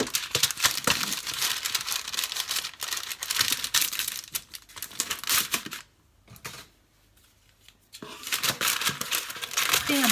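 Parchment paper being crumpled and crinkled by hand for lining a 20 cm cake tin, close, loud, busy rustling bursts with a brief quiet gap midway, and a voice speaking at times.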